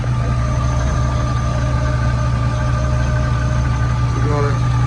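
An LS-swapped 1988 Monte Carlo SS idling steadily, a constant low engine drone with a faint whine, heard close with no breaks.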